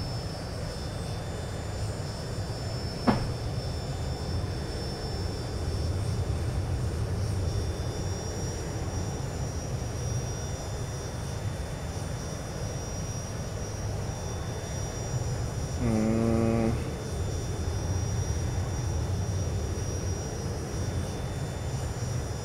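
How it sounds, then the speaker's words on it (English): Boeing 737-800 jet engines, the Zibo 737-800 in the X-Plane 11 flight simulator, drone steadily and loudly throughout with a brief click early on and a short tonal chirp near the end. "Man, these engine sounds are a bit strong."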